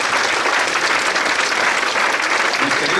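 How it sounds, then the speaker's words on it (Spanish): A church congregation claps together during a Christian service, loud and continuous, with a full uniform wash of many hands throughout. "Démosle palmas una vez más."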